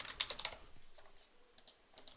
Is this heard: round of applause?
no